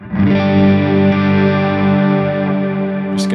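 A sustained, distorted electric guitar chord through a Hotone Ampero II Stomp rings out, washed in heavy reverb and echo, with a brief high noise at the end.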